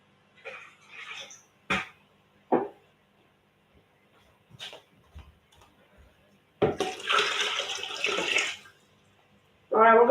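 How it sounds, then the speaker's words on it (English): Water pours into a pygmy corydoras quarantine aquarium, topping it up with non-cycled water. A couple of brief knocks and faint noises come first, then a two-second gush of pouring water, and a final burst starts at the very end. "we're gonna fill up that tank with the rest of the water that is non-cycled"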